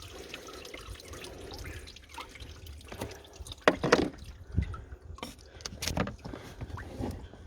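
Coolant drains from a Ford Mondeo Mk4 1.8 TDCi engine into a bucket, giving quiet irregular drips and splashes with a few louder spatters.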